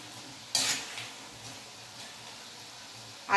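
Pakoras being turned in hot oil in a kadhai for kadhi pakora, a low simmering sizzle with two sharp metal clinks of a spoon against the pan, one early and one at the end.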